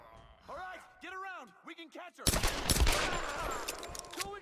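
Pistol gunshots in the Tomb Raider game burst out loud and close after a stretch of tonal voice or game sound, with several sharp reports and clatter tumbling over one another.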